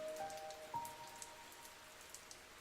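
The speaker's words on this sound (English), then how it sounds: "There was only a slight drizzle coming from the calm sky." A slight drizzle falls from a calm sky near a forest, scattering faint, sparse droplet ticks over a soft steady hiss. A few faint tonal chirps sound early on.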